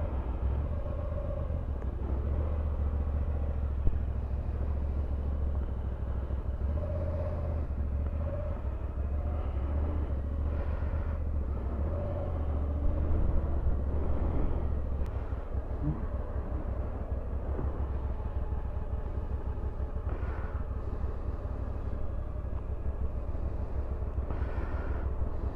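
The engine of a BMW V85TT motorcycle rumbles low and steady as the rider sets off, holding a continuous deep drone with slight swells throughout and no voices.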